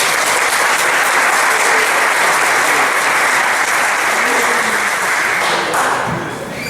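Audience at a community event honoring a local family breaks into loud, sustained applause, a dense wash of clapping hands that holds steady for several seconds and then begins to taper off.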